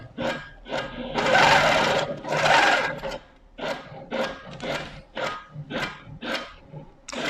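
An embroidery machine stitches out lettering in a repeating pattern of short mechanical bursts, two longer and louder passes followed by a steady series of quicker pulses, close and clear with no talk.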